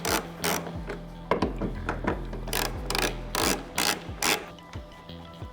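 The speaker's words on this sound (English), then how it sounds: "next step's going to be removing all these bolts here and removing the fuel pump hanger" Bolts being worked loose from the fuel pump hanger of a Honda NSX, a close series of ratcheting clicks and metallic rasping bursts in irregular rhythm, fairly loud and without speech.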